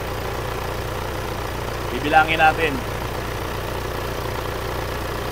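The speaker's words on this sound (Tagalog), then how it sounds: "Pakinggan nyo ngayon, pag nag-trip off yan, yung nag-automatic, kung ano ang tunog ng makina." A car engine idles steadily with a low, even hum while the air-conditioning compressor trips off; someone speaks briefly over the running engine.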